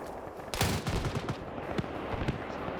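A 23mm cannon in a combat video game fires a few heavy, distinct shots spaced irregularly over a low rumbling background, fairly loud, with no talking.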